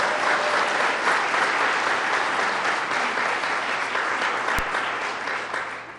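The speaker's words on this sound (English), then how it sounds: "Let's give him a round of applause." Audience at a women's equality event in Seneca Falls claps in sustained, dense applause that holds steady and tapers slightly near the end.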